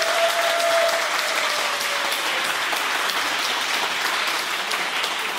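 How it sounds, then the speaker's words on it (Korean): An audience applauds a dance troupe after a performance preview, a dense steady wash of clapping that holds evenly throughout, with a brief tone early on. "우리 무용단원 여러분께 박수 한번 부탁드리겠습니다"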